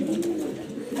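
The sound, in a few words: male pigeon cooing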